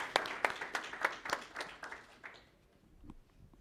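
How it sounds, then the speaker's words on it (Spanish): A small audience at a science lecture claps together, a quick flurry of applause that fades out after a couple of seconds into near silence. "les pediría un aplauso para darle una bienvenida"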